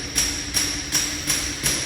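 A cordless impact driver tightening a fastener hammers close by in a steady rhythm of short repeated bursts, about three per second, with nothing else heard.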